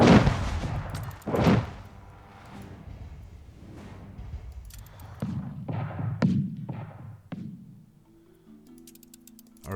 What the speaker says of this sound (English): I really like the sound of the cannons.